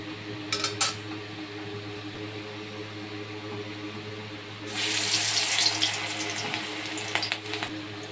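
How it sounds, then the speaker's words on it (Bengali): Small masoor lentil fritters dropped into hot oil in a kadai start up a loud, steady sizzling hiss midway through, after quieter kitchen clatter. "এবারে ওই মিশ্রণটাকে সুন্দর করে ছোটো ছোটো করে বোয়ার মতো করে ভেজে নেব।"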